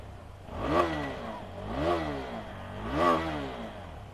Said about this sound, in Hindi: एग्जॉस्ट की मैं एक बार नोट आपको सुनाना चाहूँगा।